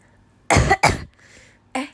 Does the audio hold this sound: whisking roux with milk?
no